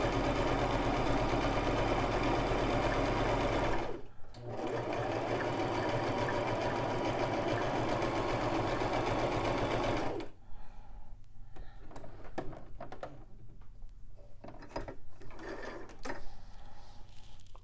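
A Brother LX3817 sewing machine runs a blind hem stitch on woven fabric, whirring steadily and loudly, pausing briefly near four seconds, then stopping after about ten seconds and leaving only quiet handling clicks.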